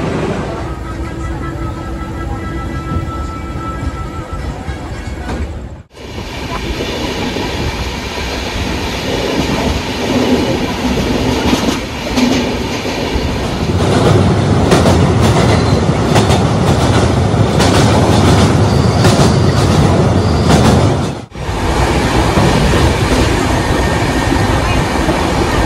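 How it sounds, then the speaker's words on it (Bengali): A Darjeeling Mail passenger train from Sealdah to NJP runs on rails with a loud, continuous rumble and wheel clatter heard from inside. The sound drops briefly twice, then the rolling noise resumes, heavier in the middle stretch. "বন্ধুরা এক্স্যাক্ট 10:05 কিন্তু আমাদের দার্জিলিং মেল ছেড়ে দিল"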